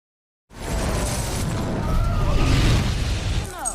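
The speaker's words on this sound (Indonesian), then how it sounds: "sehingga tempat itu meledak" A sudden loud gas explosion in a film erupts after a moment of silence, followed by a sustained roaring rumble with crackling debris.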